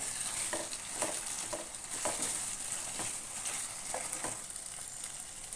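Chicken and coconut milk are stirred together in a pan over a low flame, a steady soft sizzle broken by several light scraping strokes of a spoon, close and continuous with no voices.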